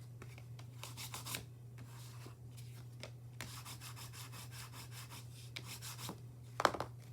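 A folded paper seed packet is burnished with soft, dry rubbing strokes in quick repeated bursts, quiet and close over a steady low hum, ending with a brief sharper scrape.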